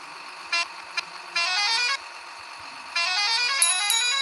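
A synthetic vehicle horn in a video game honks in bursts, two short taps, then two longer blasts, clean and steady with no other sound.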